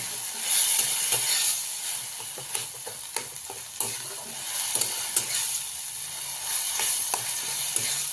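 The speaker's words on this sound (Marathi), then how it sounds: "चांगलं परतून घेऊया" Eggplant sizzles in a hot pan while a spatula repeatedly scrapes and stirs, producing sharp clicks over a constant frying hiss.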